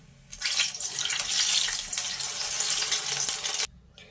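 Small balls of ginger masala vada dough drop into hot oil and fry with a loud, steady hiss and crackle that starts suddenly, holds for about three seconds and then cuts off.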